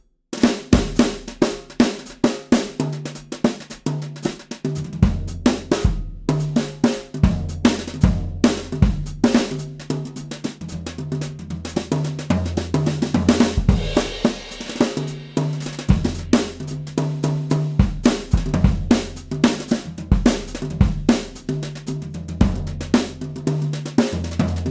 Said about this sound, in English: this is a standard drum kit played with brushes